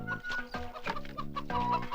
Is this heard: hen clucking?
yes